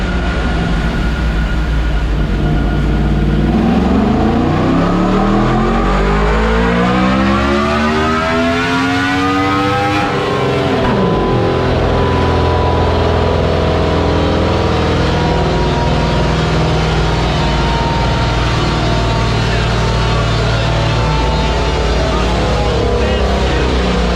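A Yamaha MT-10 motorcycle with an unrestricted ECU flash revs hard on a dyno, its loud engine note climbing steeply, peaking, then falling back to a steady roar, close and continuous.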